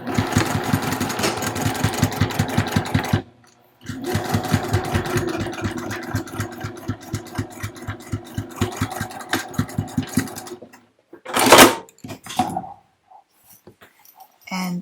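A sewing machine slowly stitches across the corner of a zipper pouch made from fat quarters, giving an even, close, pulsing chug. After a brief pause it keeps going, then stops, leaving a short handling rustle.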